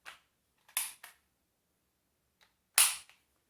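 The pump of a Daisy 840 youth BB gun is cocked with a few sharp mechanical clacks, near and separated by quiet pauses.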